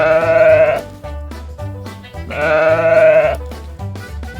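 Sheep bleats sound twice, each loud wavering call lasting about a second over cheerful children's background music with a plodding bass, with no talking.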